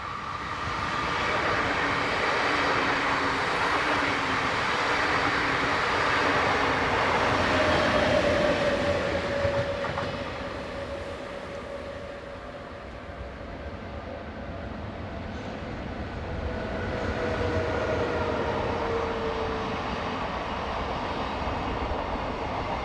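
ÖBB class 1116 electric locomotives haul trains past with a sustained rolling rumble that swells, eases and builds again, carrying faint high whines and no voices.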